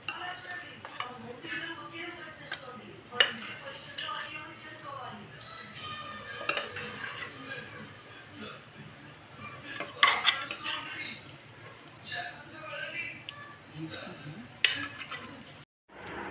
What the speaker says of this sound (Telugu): గిన్నెలో తీసుకుంటున్నా